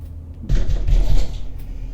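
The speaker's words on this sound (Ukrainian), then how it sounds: "Зачиняємо відразу двері." A door closes in the horror video game Subliminal with a single heavy, muffled thud and a low rumble that lingers for about a second over a quiet, dark background.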